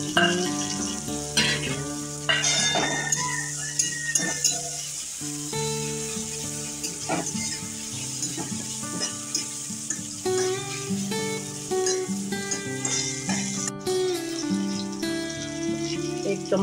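Chopped tomatoes sizzle and crackle in hot oil in a pan for a Bhogi mixed vegetable bhaji (khengat), a continuous close frying sound with occasional stirring clatter.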